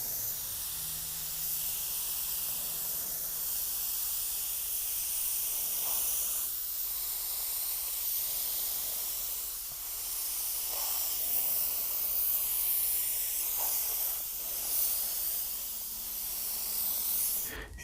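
A spray gun lays another coat of paint on a car, a steady airy hiss that swells and fades in long passes, close and continuous for the whole stretch, with no voices.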